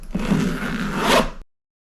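Zipper on the front compartment of a Veto Pro Pac tool bag pulled open in one continuous, close rasping run lasting over a second, then silence.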